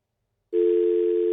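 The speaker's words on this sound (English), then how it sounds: "That sounds like a dial tone to me." A telephone dial tone on a phone line starts abruptly after a moment of silence, then holds as a steady, loud, unbroken hum to the end.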